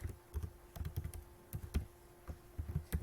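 Keys clatter on a computer keyboard in a quiet room while a database is saved in MS Access, short bursts of taps arriving in an irregular rhythm, fairly close and with no talking.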